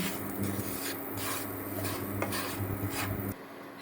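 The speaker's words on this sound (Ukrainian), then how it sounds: "легенько підсмажую на сковорідці." Breadcrumbs with cinnamon and sugar frying in a pan: steady sizzling and crackling with faint scraping, continuing evenly for a few seconds before the sizzle drops off near the end.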